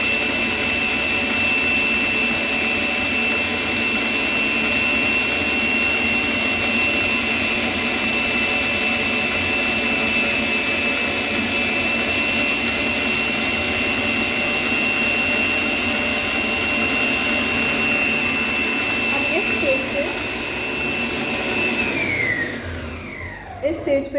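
Electric mixer whirring steadily as it beats orange chiffon cake batter with sugar toward soft peaks, a loud continuous motor drone with a sustained high whine that slows and drops away at the end.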